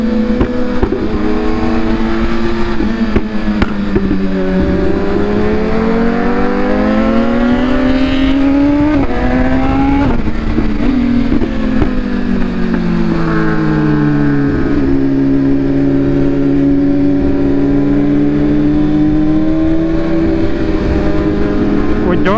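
A car accelerates hard through the gears, its engine note climbing in pitch, dropping sharply at each gear shift, then climbing again, loud and close throughout.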